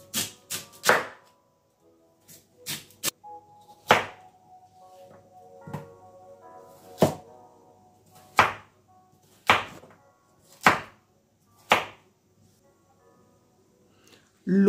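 A knife cuts sweet potatoes into pieces on a board, giving about a dozen sharp, distinct chops at uneven intervals, close and separate, with quiet gaps and faint background sound between them.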